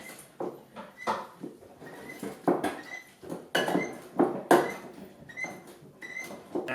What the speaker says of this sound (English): Mashing strawberries.